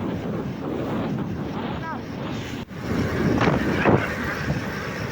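A motor boat runs across rough open sea, with a steady broadband engine and water rush and heavy wind buffeting the microphone throughout, plus a brief dip and swell of spray near the middle.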